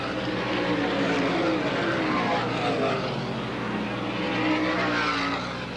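Race cars roaring out of a corner on the speedway at the NYS Fairgrounds in 1979: a dense, continuous engine roar with rising and falling pitches as several cars pass, loud and fairly near, with a commentator's voice faintly underneath.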